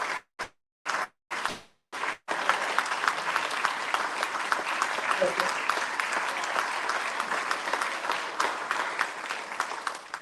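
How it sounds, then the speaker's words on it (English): Audience at a film screening discussion gives a big round of applause for the director and producer, a few isolated claps at first, then a sustained, dense wave of clapping that carries on steadily. "let's give a big round of applause"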